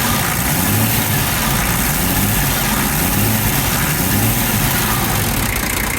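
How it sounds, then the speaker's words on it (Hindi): A heavy diesel engine in a 1988 Land Cruiser 60 Series idles steadily with its fan disengaged, a low, rhythmic rumble and constant mechanical hum, loud and close, no other sounds. "अब खाली इंजन की आवाज़ है, फ़ैन की आवाज़ नहीं है।"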